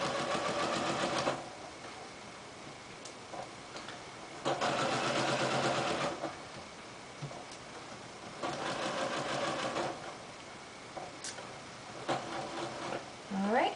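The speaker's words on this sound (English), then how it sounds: "I'm going to go ahead and stop and pull them out and just continue stitching up this line." A sewing machine runs in bursts while stitching a seam on an in-seam pocket, with a few steady whirring runs separated by pauses and softer handling sounds.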